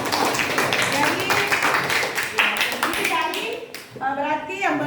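Classroom of children clapping in a quick burst of claps for about three seconds during an Indonesian language lesson, then a voice speaks alone near the end.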